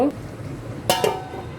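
Metal lid set down on a cooking pot of beef paya, giving two quick clinks close by, the second just after the first, with faint kitchen background.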